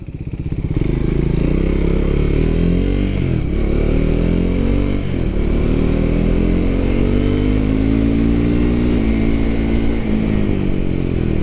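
A Triumph Scrambler 400 X motorcycle is ridden, its engine a loud, close, continuous drone that swells and dips as the revs rise and fall, with steady road and wind noise and no speech.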